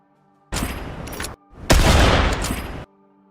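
Mammoth Pistol shots from the video game Fortnite, two loud, sustained blasts with a short gap between them, the second heavier and longer, against near silence.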